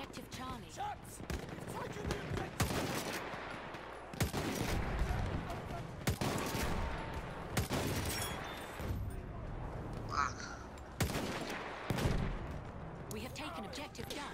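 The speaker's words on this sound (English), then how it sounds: "Shots!" Gunfire in Battlefield 1: loud, dense bursts of shots and booming blasts pound repeatedly through a chaotic battle, with voices talking over the din.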